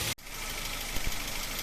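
A car engine idles steadily while the radiator is flushed, a continuous mid-low hum with slight knocking texture after a brief dropout at the start; no one speaks.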